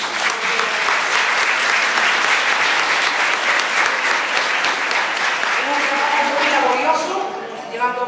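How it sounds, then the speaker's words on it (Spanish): Applause fills a church at a Christmas carol gathering, dense sustained clapping from a crowd that thins out toward the end as a voice begins under it. "Un fuerte aplauso para ellos."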